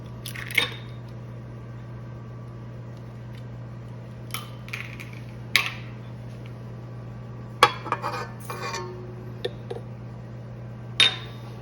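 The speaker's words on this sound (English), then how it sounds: "I'm going to crack in a separate bowl first." An egg cracked into a separate bowl in a kitchen while making keto cheesecake bars, heard as a few sharp taps and small clinks against the bowl, spaced out over a low steady hum, near and fairly quiet.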